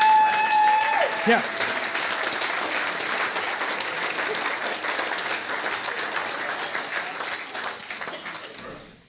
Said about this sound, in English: I think we should all give Natasha a huge round of applause for jumping on this carrot-topped grenade.